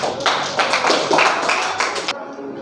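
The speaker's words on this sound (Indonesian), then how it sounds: "Sekali lagi tepuk tangan untuk kelompok 1." Students in a classroom give a round of applause for a presenting group, a brisk burst of many hands clapping close by for about two seconds, then stopping abruptly.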